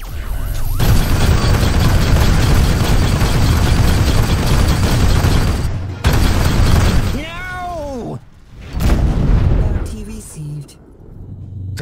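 Incoming missile and weapons fire in the space combat game Rebel Galaxy Outlaw: a loud, sustained roar of blasts and explosions, then falling warning tones and shorter bursts, with talk over it.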